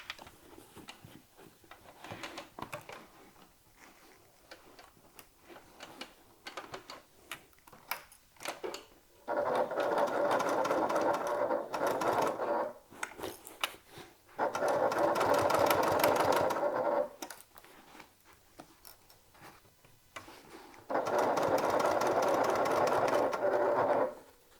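Sewing machine stitching a top handle bag, three distinct bursts of rapid mechanical whirring separated by quieter pauses with small handling clicks, close and clear.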